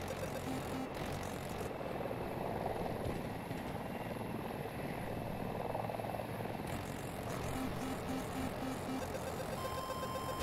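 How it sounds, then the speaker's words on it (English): A helicopter in Battlefield 2042 gives a continuous, dense rotor and engine roar throughout, loud and steady, mixed with faint intermittent beeping game sounds. "That's a solo chopper."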